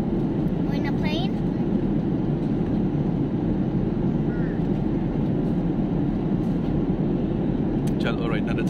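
Steady, loud cabin drone inside an Etihad airliner in flight: a dense low roar that holds evenly throughout, with faint voices and small movements in the background.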